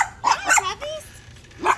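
Doberman dogs bark in a few sharp, close barks with a brief whine between them, and a person talks nearby.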